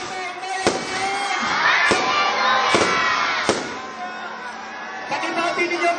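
A large congregation at an Easter church celebration shouts together in loud bursts, punctuated by sharp cracks and a brief swell of cheering, with crowd noise filling the space throughout.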